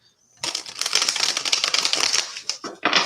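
A deck of oracle cards is shuffled by hand. Quick riffling clatter starts abruptly after a short silence and runs for about two seconds, then breaks into a few shorter bursts, all close and crisp, with no talking.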